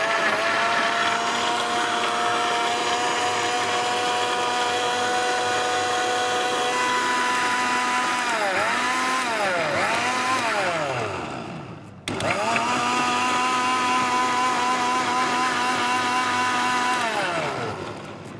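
A Singer blender runs loudly and steadily, blending malta citrus fruit with honey and water; the motor pitch dips and wobbles as the load shifts, pauses briefly, then whirs on again before winding down.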